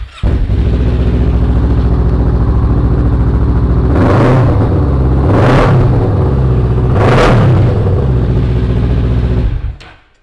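A 2018 Kawasaki Z650 Performance Edition with roughly 1,000 miles fires up and settles into a loud, steady idle close by, then revs sharply three times before cutting off.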